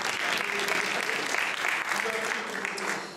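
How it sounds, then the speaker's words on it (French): Audience applause after a robot competition match in Belgium, a continuous close crowd clapping with a faint voice underneath. "On peut les applaudir."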